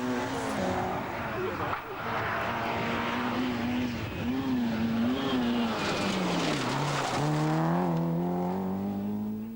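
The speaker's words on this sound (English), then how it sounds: "Aitken-Walker once again in Peugeot's 205 GTI, just holding the advantage over her teammate Callie Brundle." A Peugeot 205 GTI rally car racing on a stage at the 1988 Circuit of Ireland, its engine note rising and falling through gear changes as it passes close by, loud throughout with commentary over it.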